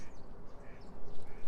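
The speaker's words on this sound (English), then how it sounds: "There's pleasure and joy in hearing that goose" A goose quacks or cackles outdoors, a rough, noisy bird call sounding several times against windy background noise, fairly faint and distant.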